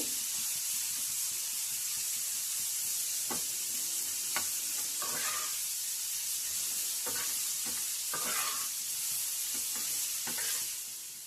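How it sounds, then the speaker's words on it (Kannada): Bitter gourd stir-fried crisp in a pan gives a constant bright sizzle, broken by scattered scraping and clicking strokes as the pieces are stirred, close and alone without speech. "ಇವಾಗ ಹಾಗಲಕಾಯಿ ಹುರಿದಾಗಿದೆ."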